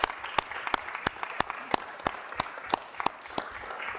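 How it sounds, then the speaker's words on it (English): A small council-meeting audience gives a round of applause, the individual claps sharp and distinct and spaced in a loose rhythm, moderately loud and close, with no speech over them. "What do we give? A round of applause."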